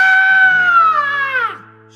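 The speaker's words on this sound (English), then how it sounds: "Scream." A single high, sustained scream holds loud and steady for about a second and a half, then falls sharply in pitch and cuts off over a low hum.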